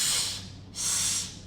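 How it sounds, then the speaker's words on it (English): Two forceful exhalations hissed through the teeth, each a close, breathy rush that fades out before the next begins. "Now what I'm doing is breathing through my teeth there"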